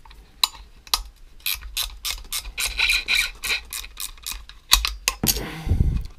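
A 10 mm wrench loosens nuts on a scooter exhaust pipe, making close, rapid ratcheting clicks in short bursts with brief pauses. A low rumbling thud follows at the end.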